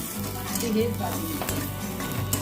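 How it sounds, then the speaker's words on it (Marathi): Ginger, garlic and chili fry in leftover oil in a kadhai, a close, busy sizzle with stirring scrapes and faint clinks of utensil on metal, no talking over it. "आता कढईमध्ये जे काय तेल शिल्लक राहिलं होतं त्या तेलामध्ये आता आलं, लसूण, मिरची"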